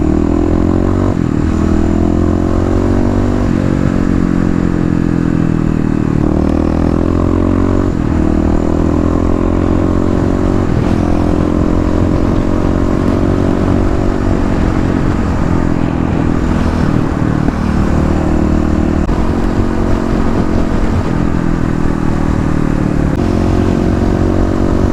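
A Kawasaki KLX351 dual-sport motorcycle in its break-in phase runs a short highway stretch, its engine droning loud and steady at cruising speed with shifting pitch and constant wind rush, no talking.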